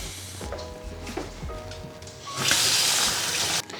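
Running water splashes and gushes over two bell peppers being given a quick rinse at a kitchen sink, close and fairly loud, with handling clatter and a brief surge of heavier flow near the end.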